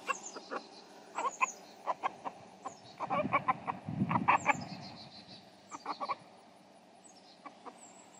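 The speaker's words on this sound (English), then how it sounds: "he's a good rooster. He calls all the girls." A rooster and hens cluck busily while being given fermented feed, with a run of close, quick clucks and calls that swell into a louder flurry midway.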